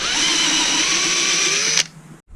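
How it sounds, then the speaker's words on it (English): A power drill boring holes into a jet wash, with a sustained high-pitched whine that runs steadily for nearly two seconds before cutting off, close and loud, with no talk. "Right, so I've had to drill 1, 2, 3, 4 holes"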